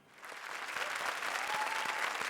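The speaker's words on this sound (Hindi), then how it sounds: "तालियां।" A studio audience at a comedy show applauds, starting quietly and swelling into steady, dense clapping that carries on to the end, heard at a distance with no talking over it.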